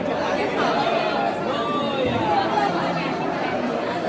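Dense crowd chatter fills a busy Ganpati temple on New Year's Day, many overlapping voices forming a steady, close babble with no single speaker standing out.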